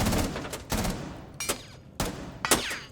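Bursts of R4C rifle fire in the tactical shooter Rainbow Six Siege, four short volleys spaced about half a second to a second apart, loud and sharp with brief gaps of quieter room tone.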